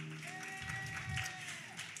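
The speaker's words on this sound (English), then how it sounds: "Can you put your hands together for our guest today?" An audience at a community outreach session claps steadily for a guest, a soft, continuous patter of applause with a voice faintly heard underneath.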